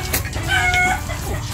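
Chickens clucking close by around feeding time after their feed is mixed, a brief loud burst of short clucks with a drawn-out tonal call.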